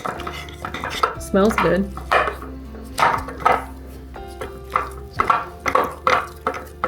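Chocolate cherry sourdough dough being mixed in a bowl, with repeated clinks and scrapes of a utensil against the bowl in an uneven rhythm, close and fairly loud; someone speaks briefly.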